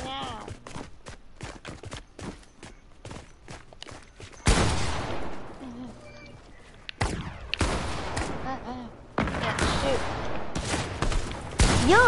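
Bursts of gunfire from the Fortnite Party Royale event, sharp shots in scattered clusters then denser rapid volleys, fairly close and loud, with players talking over voice chat between and under the shooting.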